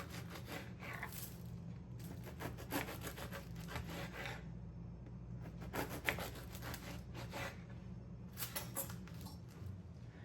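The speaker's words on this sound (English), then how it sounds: "French bread. I'm gonna cut it sort of on an angle and maybe about 1/4 inch thick." A knife saws through a loaf of French bread, cutting angled slices about a quarter inch thick. Repeated rasping back-and-forth strokes come in several distinct bursts, close and fairly quiet, with brief pauses between slices.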